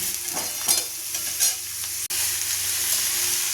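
Pointed gourd (potol) frying with onions in a pan, a steady broadband sizzle with stirring scrapes, spatula strokes rising through the first half, then continuous frying hiss after a brief break, no one talking.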